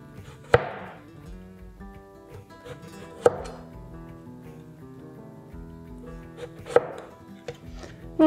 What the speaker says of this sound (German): nun werde ich die Zucchini in etwa 1 cm dicke Scheiben schneiden